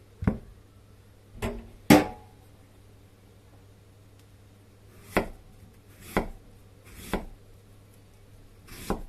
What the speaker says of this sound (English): Cut into 3 to 5 millimeters thick slices.